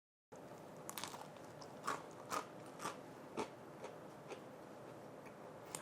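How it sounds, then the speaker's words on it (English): Quiet, close crunching comes from someone biting and chewing a crisp waffle crust fresh from a Cuisinart double flip waffle maker, about half a dozen soft crackling bites spaced roughly half a second apart, with no talking. "That is the sound of the crust of these waffles."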